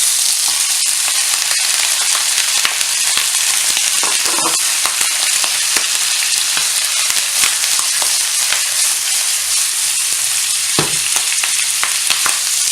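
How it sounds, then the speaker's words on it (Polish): Steady, loud sizzling of pork belly frying in a hot pan, continuous crackle with occasional sharper pops and stirring scrapes. "Tak około 3 minut trzeba smażyć."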